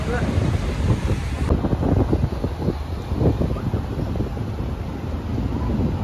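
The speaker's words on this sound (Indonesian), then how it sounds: "kalau daerah gue tuh anginnya kenceng banget" Strong gusting wind buffets the microphone outdoors on a street in Sydney, a loud, continuous rumbling roar that surges and falls throughout with no talking.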